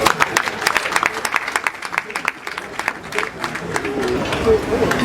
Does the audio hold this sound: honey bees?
no